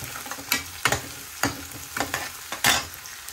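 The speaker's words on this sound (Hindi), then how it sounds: "अब कढ़ी के लिए लग रहा है तड़का" Spices and curry leaves crackle and sizzle in hot oil as a tempering for kadhi, with sharp bursts of spattering repeating every half second or so, close and fairly loud.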